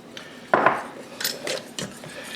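A spoon scraping and stirring thickening banana pudding in a pot on the stove, with a loud clatter at first and then several rubbing, clinking strokes against the pot; nobody speaks.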